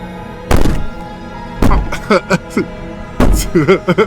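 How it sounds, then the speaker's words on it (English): Heavy banging on a wall or door in the horror game Slay the Princess: three loud, resonant thuds spaced about a second and a half apart, with a voice speaking between the blows. "Maybe the banging and wailing will stop if you just don't pay attention"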